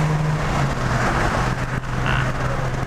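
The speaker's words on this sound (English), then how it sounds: "Let me get past this loud ass truck." A loud truck rumbles close by on the road, its low engine drone steady and heavy for about three seconds, heard from inside a passing Mazda RX-8.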